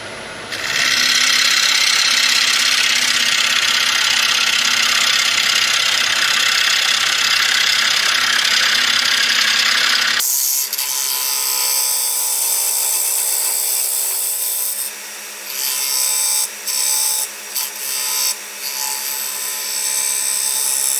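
A wood lathe spins a natural-edge honey locust piece, giving a loud, steady high whir that cuts abruptly to a lower hum and then to uneven bursts of cutting noise.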